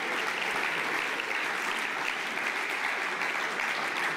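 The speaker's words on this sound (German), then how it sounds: "Applaus." A crowd applauds at a small party conference in Aschaffenburg: steady, dense clapping that stays level and unbroken from start to finish, with no talking over it.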